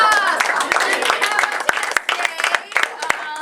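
A room of participants at a summer improv workshop breaks into applause for performers, close, crisp clapping with several sharp individual claps and voices talking over it.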